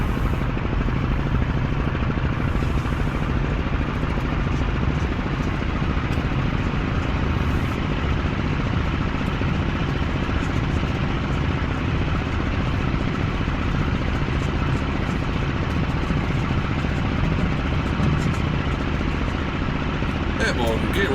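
A Focke-Wulf FW190 A-8 fighter engine run up to takeoff power in a flight simulator, a steady, loud, droning roar that holds evenly for the whole stretch with no breaks.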